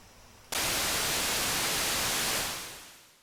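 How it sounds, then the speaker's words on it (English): Hissing white-noise static comes from a radio receiver with no antenna connected, set up for NOAA satellite APT decoding. It switches on abruptly, holds loud and even for about two seconds, then fades out. "Right now, of course, there's just noise because there's not even an antenna connected yet"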